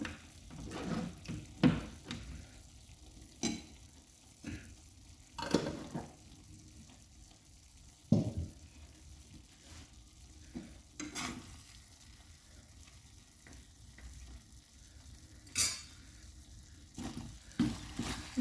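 Chicken liver frying in coconut oil, giving a low, steady sizzle under intermittent stirring scrapes and clatters at an uneven pace, heard close and fairly quiet.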